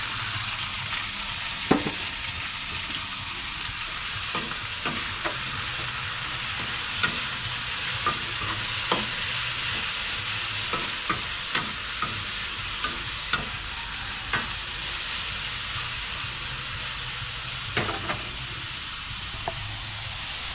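Eggplant frying in a pan for a breakfast dish of eggplant with egg, giving a steady close sizzle with scattered clicks and scrapes as it is stirred, with no talk.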